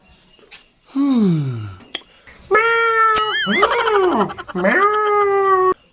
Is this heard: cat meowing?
yes